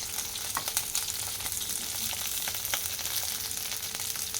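Garlic pieces and green chilies fry in a couple of spoons of hot oil for a Telangana-style tomato chutney, giving a steady close sizzle with crackles and light stirring, with no talking.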